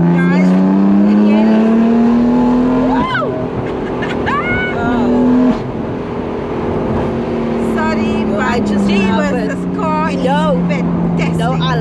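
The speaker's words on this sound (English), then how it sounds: "I love the sound of your exhaust." BMW M4 Convertible exhaust revving while driving, loud rising and falling engine notes across several gear changes, heard from inside the car with voices talking over it.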